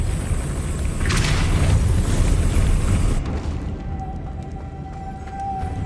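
A Depulso spell cast in Hogwarts Legacy, a loud booming blast that swells for about three seconds, then drops away into a quieter tail with a thin lingering tone.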